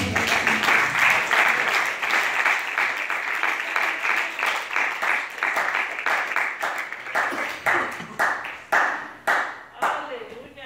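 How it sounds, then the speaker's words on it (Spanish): A church congregation claps for the Lord during a Spanish-language service, a dense wave of applause that settles into steady rhythmic clapping and fades near the end, with a voice speaking over it. "Denle un aplauso al Señor"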